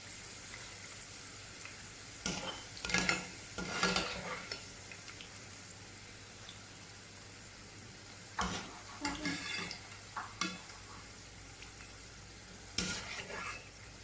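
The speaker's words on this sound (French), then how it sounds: "mon omelette est en train de cuire" An omelette sizzles steadily in a frying pan, a soft continuous hiss broken by several bursts of scraping and clinking utensils against the pan, close and without talk.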